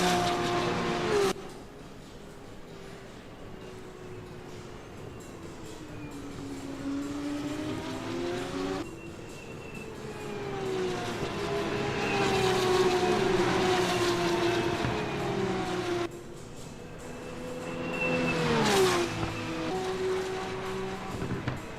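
Formula 2 race cars sweep past on the Miami Grand Prix circuit, loud engine whines rising and falling in several separate passes, each fading before the next car arrives.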